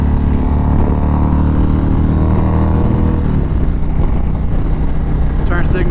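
Custom 2019 Indian Chieftain Dark Horse motorcycle accelerating on a highway, a loud, close V-twin drone rising in pitch, wind rushing throughout, with a rider talking over it.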